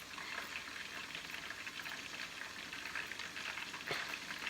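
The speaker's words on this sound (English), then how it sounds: "So we got the chicken being fried" Chicken frying in a pan for a Lao chicken feet salad, a steady dense sizzle and crackle of hot oil running evenly throughout with no talk.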